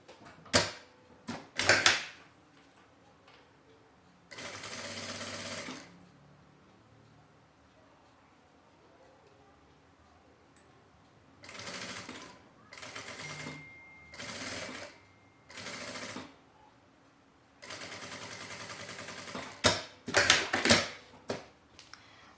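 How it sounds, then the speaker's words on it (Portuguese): A sewing machine stitches the zipper of a shoulder bag in several short runs of rapid mechanical whirring. Clicks and handling noises fall between the runs, and the whole is fairly quiet and close. "E vou passar uma costurinha de segurança bem na beiradinha."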